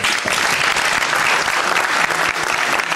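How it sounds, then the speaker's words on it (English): Dense, sustained applause from a large audience fills the whole stretch at an even level, with no talk over it. "So let's give the artists another round of applause."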